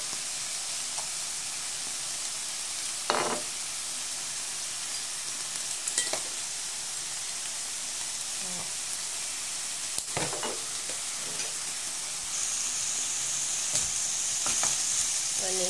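Boiled bamboo shoots stir-frying in a hot pan, with a steady bright sizzle and occasional sharp scrapes and clanks of the spatula, and no talking.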